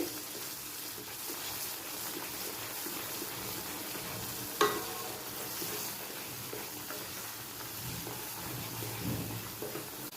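Semolina sheera being stirred in a hot pan as milk and water are mixed in: a steady, continuous sizzle and scraping texture with one brief sharper knock midway, no voices.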